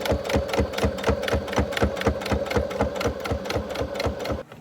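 A sewing machine stitching fabric for handmade Christmas gifts, a fast steady run of rhythmic mechanical thumps and whirring, close and loud, stopping abruptly at the end.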